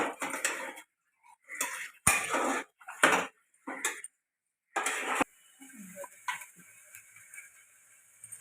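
Rice for veg pulao being stirred and sautéed in a pan, with repeated clattering scrapes of a spoon against metal in short bursts, then a quieter sizzle-like stretch; no talk.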